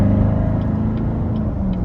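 A 2015 Chevrolet Corvette C7 Z51 2LT with the 6.2 V8 and Z51 exhaust drones steadily while driving, giving a loud, close, low engine rumble with layered harmonics holding nearly constant.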